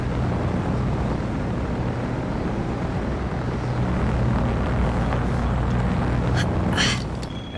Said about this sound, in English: Apparently they can hear me over that engine.